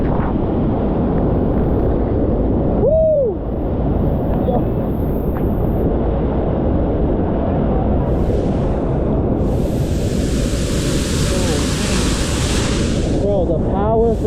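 Heavy, steady roar of a waterfall at La Danta in Antioquia, Colombia, with strong gusty wind from the spray buffeting the microphone, loud and close throughout.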